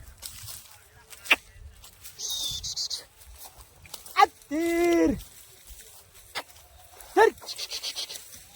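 A goat bleats once, loud and wavering, amid scattered outdoor sounds, with a few short sharp calls or voices before and after.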